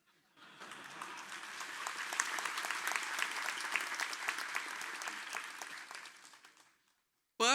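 Sustained audience applause at a Marathi book launch event for a book titled Tukaram, a dense wash of many clapping hands swelling in quickly, holding steady for several seconds, then fading out, with no talking over it.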